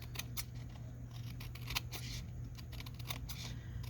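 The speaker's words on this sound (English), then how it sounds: "I'm going to trim" Scissors snip through paper cardstock in a string of quick, soft, close cuts over a faint steady hum, with no voices.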